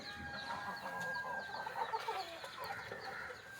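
Chickens cluck on and off at a moderate distance, steady and continuous with soft background noise and no speech, the calls blending into a busy farmyard chatter.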